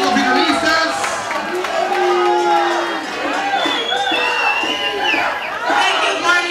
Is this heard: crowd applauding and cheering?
yes